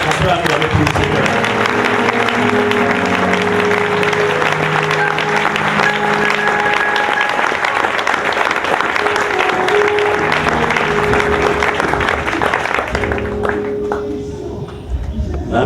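A church congregation applauds and cheers in a steady, loud roar of clapping and voices that holds for about thirteen seconds, with sustained tones underneath, then fades slightly at the end.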